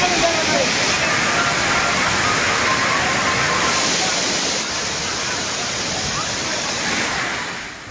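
Rushing water of the Thirparappu waterfall, crowded with holiday tourists, makes a loud, continuous broadband roar that holds steady for the whole eight seconds, fading slightly at the end.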